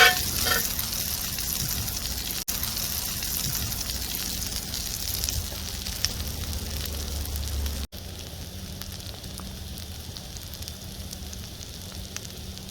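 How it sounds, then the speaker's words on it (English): Potatoes fry in a pan over an open fire for breakfast, a continuous close sizzling hiss with fire crackle underneath, holding steady before easing slightly partway through, with no talking. "Potatoes are just starting to brown up a little bit. We can move these around, give them a little flip."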